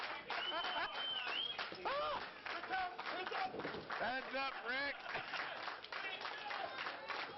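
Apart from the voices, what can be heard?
wrestling crowd cheering and applauding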